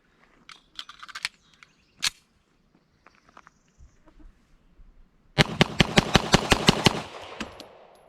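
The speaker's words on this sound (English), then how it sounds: "got a 10 round mag loaded up of the Wilson Combat. Here we go. I'm just going to go off in the distance and dump it as fast as I can." Rapid string of about ten gunshots from a TISAS 9mm 1911 pistol emptied fast downrange at an outdoor range, loud sharp reports in quick even succession, preceded by scattered faint clicks and handling noises.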